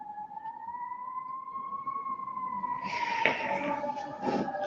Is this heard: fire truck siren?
yes